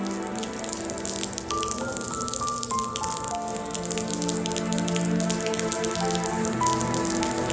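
Fresh rain patters and drips around an outdoor commencement setting, with dense close droplet hits and brief tonal sounds in the background.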